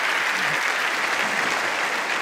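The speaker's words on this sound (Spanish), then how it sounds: "Ese aplauso es para todos los que siembran, todos los que dan," An audience applauds steadily, a dense, even wall of clapping that holds at a constant level throughout.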